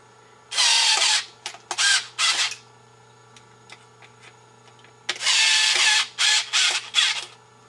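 Power tool tightening bolts on an airsoft RPG being built: several loud bursts of high whirring, each a short run of quick pulls, split into two groups separated by a few seconds of near quiet with faint clicks.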